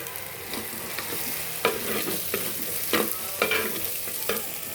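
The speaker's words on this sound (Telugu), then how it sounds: "ఇదిగండి అల్లం వెల్లుల్లి పేస్ట్ వేగిపోయింది." Ginger garlic paste and tomato frying in a pan for fish pulusu, a steady sizzle broken by repeated scraping strokes of a spoon stirring at an even pace, close and without speech.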